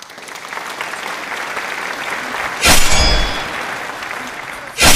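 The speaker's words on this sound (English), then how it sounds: "the crowd is loud." Loud roaring crowd at an NFL playoff football game between the 49ers and Packers in Santa Clara in the rain, a steady broad roar that swells sharply near the middle and again at the end.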